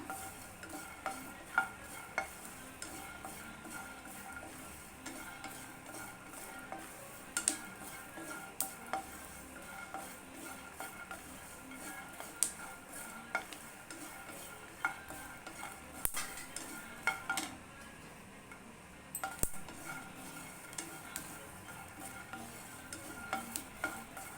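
Peanuts stir-fried in a pan for tomato-onion chutney: quiet, repeated scraping strokes of a spoon against the pan over a soft, steady sizzle, with occasional sharper clinks, no talking.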